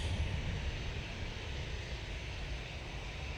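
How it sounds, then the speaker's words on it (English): An easyJet Airbus A320-200 passing at Manchester Airport, heard as a steady, broad engine roar that holds evenly throughout with no voices over it. "Easyjet coming on in front of us."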